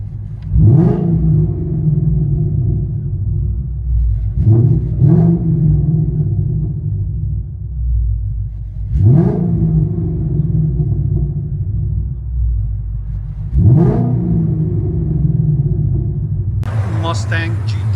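A 2017 Ford Mustang GT 5.0L V8 with long tube headers, catless X-pipe and axle-back exhaust revs in four sharp bursts, spaced a few seconds apart, over a deep, steady rumbling idle, loud and close.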